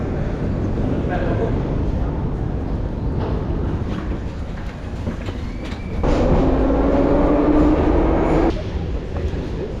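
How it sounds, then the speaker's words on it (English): A Kyiv metro train rumbles loudly and steadily, with a rising whine as it moves through the tunnel; voices murmur faintly underneath. "It looks like we're taking the metro."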